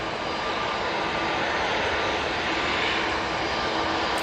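An EasyJet jet airliner departing Manchester Airport roars with a steady, loud broadband engine rumble that holds unbroken throughout, with no talk over it.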